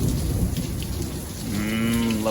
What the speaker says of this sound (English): Love a good thunderstorm though.